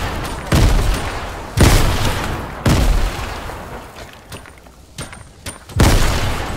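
Explosions from grenades and bursts of gunfire in the video game Fortnite, during a 2v2 squads match. Four heavy booming blasts hit at roughly one-second intervals, with scattered lighter shots between them, loud and close.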